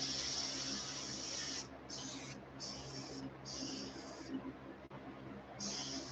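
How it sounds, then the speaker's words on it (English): Spray paint sputtering in uneven bursts from a sprayer while painting a crawfish-pattern fishing lure, a close hiss that cuts in and out over steady background hum. "it's spraying like complete garbage"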